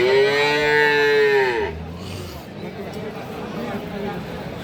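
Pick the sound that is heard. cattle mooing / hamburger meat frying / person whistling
cattle mooing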